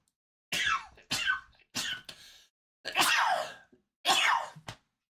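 A person sneezes a bunch of times in quick succession, six or so close, abrupt bursts separated by brief silences, loud and near with no talking.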